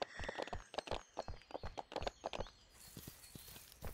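A horse's hooves clip-clop at an even walking pace as it is led around a ranch in a video game, crisp close hoof strikes sounding alone against quiet background ambience.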